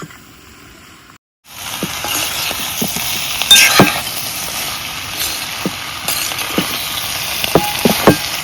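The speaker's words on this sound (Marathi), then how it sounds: "आता ह्या सगळा बरा तेलात भाजून घेऊया." Potatoes, turmeric and masala frying in oil in a pan, a close, steady sizzle that starts after a brief quiet moment, with a few stirring clinks.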